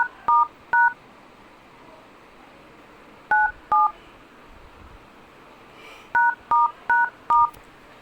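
A phone keypad sounds DTMF dialing tones as a secret code is entered. Short, clean beeps come in three quick bursts with gaps between them, loud and close, with no talk.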